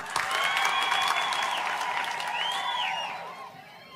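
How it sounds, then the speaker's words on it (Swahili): Applause fills a church gathering, dense and steady clapping from a crowd that holds strong for about three seconds before easing off, with a few high whistle-like tones over it. "makofi"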